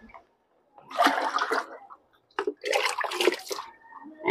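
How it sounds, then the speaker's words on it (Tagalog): Water sloshes and splashes in two bursts as Kings Beta Plus animal feed supplement is stirred into it, close and fairly loud with short quiet gaps between. "So i-mix natin ang Kings Beta Plus animal feed supplement sa tubig."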